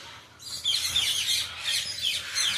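Birds at a bird sanctuary chirp and tweet in a busy, overlapping chorus of high calls, fairly close and moderately loud, with no talking over them.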